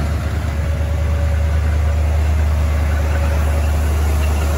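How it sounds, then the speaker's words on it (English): A 1958 Oldsmobile Super 88 coupe with its Rocket 88 V8 idles in a showroom, a steady low rumble with an even exhaust burble that holds without variation, close and alone. "That's a Rocket 88 engine."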